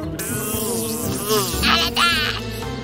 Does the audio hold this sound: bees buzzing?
yes